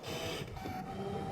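An electronic cutting machine drives its blade across material on a low-tack cutting mat, giving a whirring mechanical buzz with small shifts in pitch over a short stretch, close and quiet, with no talking.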